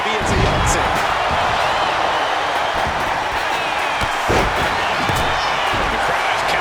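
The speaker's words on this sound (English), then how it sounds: "The crowd is counting it down." A wrestling crowd chants a countdown in WWE 2K25 during a War Games match, a steady roar of many voices with rhythmic slams and cheers, heard under ongoing commentary.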